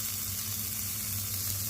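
Fish pieces frying in oil on a flat tawa, giving a steady, even sizzle that holds at one level throughout, with no talking.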